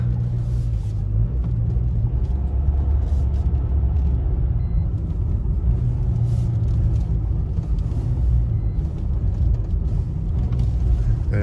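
A 2008 Mercedes W169 A-Class CDI 109 diesel with automatic gearbox runs with a steady, close, heavy low rumble inside the cabin, continuous and even throughout with no voices.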